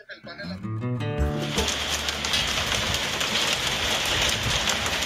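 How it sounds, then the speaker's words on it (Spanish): After a brief voice and bird-like cooing at the start, a dense, loud patter of hail takes over and drums steadily at a dairy milking shed at night. "cayendo granizo."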